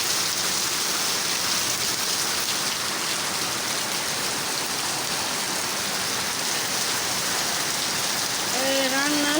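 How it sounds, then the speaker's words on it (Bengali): Heavy rain pours down steadily on a surface, a loud dense wash with no break, and a faint voice comes through briefly at the very end. "বীজ কি পরিমাণ বৃষ্টি"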